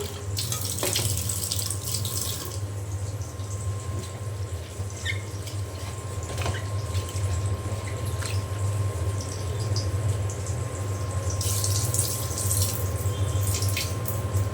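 Tap water runs steadily over lentils being rinsed in a kitchen sink for a thin masoor dal, a continuous close splashing hiss with small clinks and drips, no talk.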